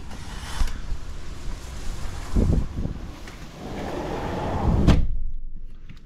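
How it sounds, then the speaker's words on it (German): Strong wind buffets and roars in uneven gusts, with thumps and rattling as it swells and drops, ending in sudden quiet. "Kurze Nacht, windig und warm."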